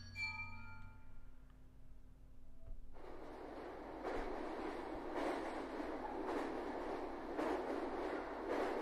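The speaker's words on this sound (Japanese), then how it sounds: "電車だ。" In the video game SIN, a soft musical tone gives way to a train running on its tracks: a steady, close rumble with regular rhythmic clacks of wheels over rail joints.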